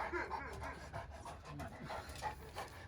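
A dog pants close up with quick, steady breaths that run continuously through the short moment, with faint background voices.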